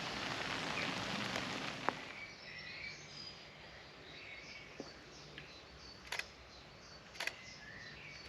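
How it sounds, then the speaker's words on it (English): Light rain patters steadily on the surface of a private fishing lake, soft and fairly faint, with a few scattered drips and distant bird calls over the wash. "as you can see, it's raining"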